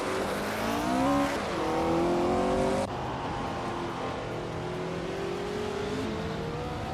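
Racing cars in a video game, led by a 1969 Porsche 908/2 Spider at Chang track, roar off the start line, engines revving and climbing through gears, loud and continuous with overlapping cars.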